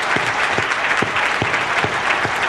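Audience applause at a talk on customer acquisition, a steady mid-distance wash of clapping that carries on through the whole stretch with no voices over it.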